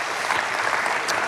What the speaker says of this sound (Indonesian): Ya tepuk tangan dulu yang dahsyat buat Tuhan kita